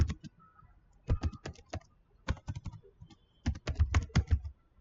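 Someone types text on a computer keyboard close up, sharp clicking keystrokes coming in quick irregular bursts separated by short pauses, with no talking.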